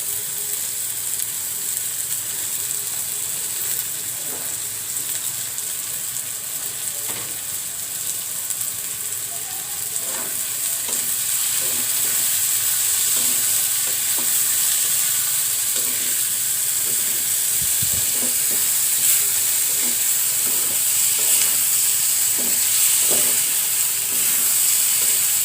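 Chopped green chili and minced garlic fry in hot oil in a pan for dal bharta, a steady close sizzle and hiss with occasional stirring scrapes, no voices.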